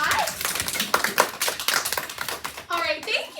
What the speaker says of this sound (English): we have to give James a round of applause